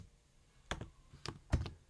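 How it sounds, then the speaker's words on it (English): Keys on a computer keyboard tapped in a few quick, separate bursts in a quiet room, close and crisp, with short silences between the clusters. "if I go to a new tab and I type in localhost"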